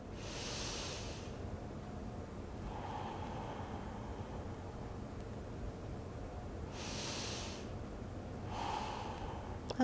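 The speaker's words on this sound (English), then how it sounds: "Long inhales, long exhales." Slow yoga breathing during a class, with long drawn inhales and exhales repeating in a steady cycle, close and breathy over a quiet background.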